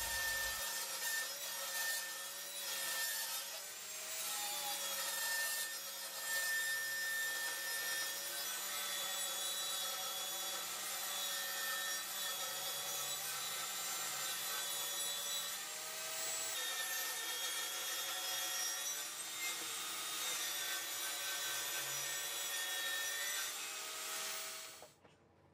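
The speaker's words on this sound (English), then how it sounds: "I set the bevel on 35 degrees and start cutting." Circular saw ripping 50mm strips from 18mm plywood in a workshop, a steady continuous whine of blade through wood that holds for about 25 seconds before cutting off at the end, loud and close with no talk.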